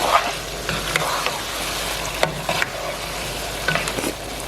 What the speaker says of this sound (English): I'm adding the shrimp